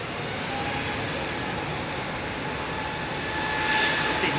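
Jet airliner departing London Heathrow Airport, a steady loud broadband engine roar filling the whole span and swelling slightly toward the end, with no voices.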